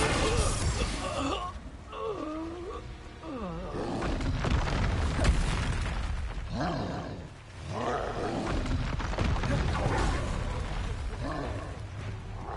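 Booming spell explosions from the Hogwarts Legacy video game, several blasts with rumbling low-end impacts over about twelve seconds, mixed with game music and a voice shouting spell names.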